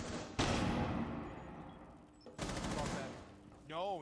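Rapid gunfire in a tactical shooter video game, two loud bursts of automatic fire, each trailing off, with a faint voice near the end.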